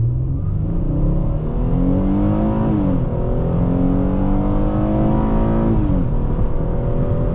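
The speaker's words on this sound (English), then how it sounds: "Now this engine just feels so nice with how it revs" A 2014 Ford Taurus Police Interceptor with the 3.7L engine revs hard and accelerates through two upshifts, its pitch climbing steadily in a loud, continuous in-cabin drone.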